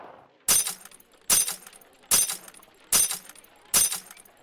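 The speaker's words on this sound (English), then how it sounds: "drew his Colt and shot 5 glass bottles with only 1 round." Five glass bottles shattering one after another at a steady rhythm as they are shot with a Colt revolver in the Old West desert, each a sharp loud crash with tinkling debris.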